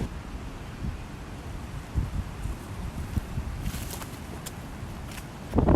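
Steady outdoor wind rumbles and buffets the microphone throughout, with low gusty roar and a stronger gust at the very end; no talking.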